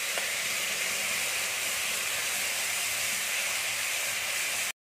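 Spice paste for Kashmiri aloo dum hitting hot oil with cumin seeds, a steady bright sizzle and hiss that holds evenly for several seconds, then cuts off abruptly.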